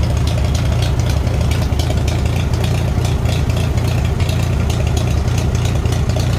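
A Farmall 450 tractor engine idles on gasoline with a steady, loud, rumbling drone and a faint rattle, running evenly close by with no talking.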